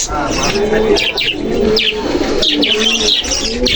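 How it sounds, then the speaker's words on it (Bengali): Several pigeons, including Oman teddy and fancy breeds, cooing close by in a pigeon shop in repeated soft, throaty phrases, mixed with a few chirps and light background murmur. "এখানে দেখুন প্রচুর পরিমাণে কবুতর আছে"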